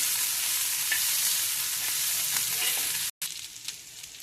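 Green chili and ginger sauté in a pan with a steady, close frying sizzle and light stirring, broken by a brief silent gap near the end.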